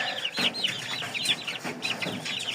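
Fluffy-footed chickens cluck and chirp close by in a busy, overlapping chorus of short calls that runs without a break.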